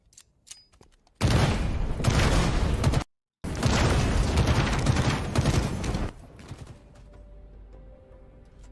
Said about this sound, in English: This is a prototype gravity gun made with Halo Infinite's Forge scripting.